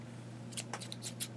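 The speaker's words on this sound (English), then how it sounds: "I'm going to cut this pink one off" Scissors snip through a pink fabric strip in a few quick, close cuts over a steady low hum, with no talking.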